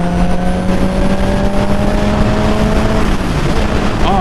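A 2014 Honda CBR1000RR sportbike engine held at a high, steady whine as the throttle stays open, loud and close with a slight pitch shift near the end.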